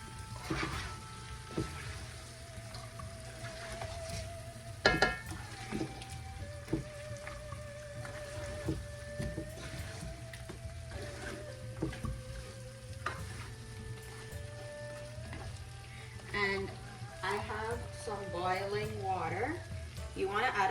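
Duck curry with potatoes sizzles and bubbles in a hot pot as it is stirred, with scraping clinks of the spoon against the metal and talk over the cooking sounds.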